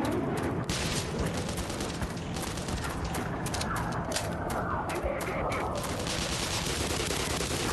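Battle noise from the Black Mesa video game as a tank opens fire: a continuous dense barrage of booming shots and gunfire, loud and unbroken throughout.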